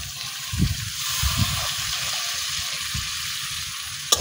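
Taro stems hit hot spiced oil and cook with a moderate sizzle and watery bubbling, with soft low thumps from handling the pan and a sharp clink at the end.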